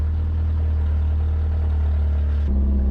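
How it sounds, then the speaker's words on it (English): Loud, steady low engine drone of an old mini truck with a continuous metallic rattle from the rear exhaust, shifting in tone near the end as the engine note changes. "Sounds like some of the exhaust at the back's rattling now."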